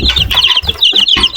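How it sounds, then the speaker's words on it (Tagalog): Heritage chickens, crossbred from native chickens on a small farm, cluck and squawk repeatedly in a busy, close and fairly loud flock with no talking. "Heritage chicken na ang tatay ay native na manok."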